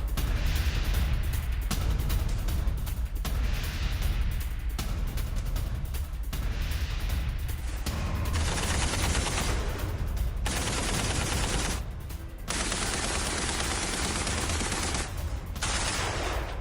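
Gunfire in war news footage from Ukraine rattles in sustained loud bursts, with a dense roar of firing that sometimes cuts off abruptly and resumes, and no voices.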